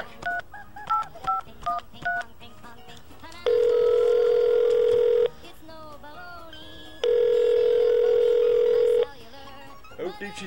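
A telephone call back: a quick string of touch-tone dialing beeps, then two long steady ringing tones separated by a quiet gap, with faint background murmur.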